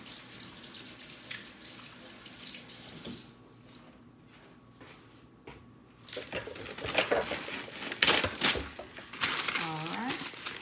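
Tap water runs into a sink during handwashing in a home kitchen before fish is prepared, a steady soft wash with brief louder splashes and clatter toward the end, and a person talks.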